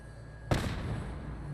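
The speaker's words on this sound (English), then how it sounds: "There's an attachable grenade launcher," An attachable grenade launcher fires in Fallout 4, a single sudden loud blast followed by a sustained rumbling wash of noise that lingers to the end, with no talk over it.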